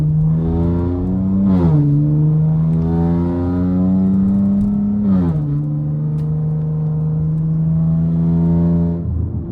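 A Mopar V6 or R/T car engine revs hard in SRT mode and climbs in pitch, with quick shifts dropping the tone before it pulls up again, loud and continuous.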